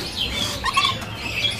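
Ambon lory parrot calling inside a bird shop: a few short, thin chirps and squawks sit over a steady hum of shop background noise, moderately close but not loud.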